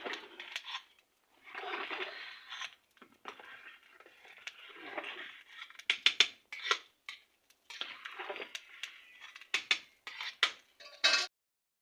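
A spoon scraping and clinking against a pot while biryani masala is stirred into chicken biryani, intermittent close metallic knocks and scuffs with quiet pauses between, no speech.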